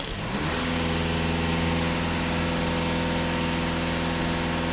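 Skoda Octavia 2.0 TDI diesel engine revved and held steady around 2500 rpm during diesel particulate filter cleaning, a loud continuous drone with strong harmonic hum rising at the start and then sustained without talk.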